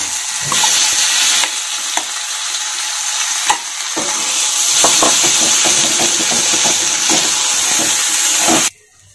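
Ground green pea paste for kachori, added after asafoetida, fries in a hot pan while being stirred, giving a loud, steady sizzle with scraping strokes that cuts off abruptly at the end.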